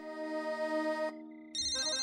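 An electronic phone ringtone plays a short melodic tone, pauses briefly, then a higher brighter tone rings, close and clear.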